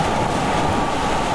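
River water rushes loudly and steadily around a kayak surfing a river wave, a dense, continuous roar with wind buffeting the microphone and no voices.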